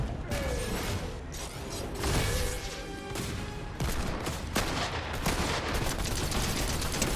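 Magnum pistol shots in a multiplayer shooter video game, dense and loud, cracking repeatedly over continuous in-game mechanical clatter and action noise.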